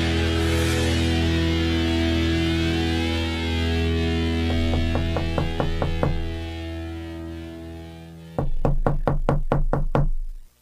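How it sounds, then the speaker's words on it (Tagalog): Knocking on a door, rapping in two distinct bursts: a quicker, softer run of knocks in the middle, then a louder, harder series of raps near the end, all over a steady background hum with no talk. "May kumakatok ko."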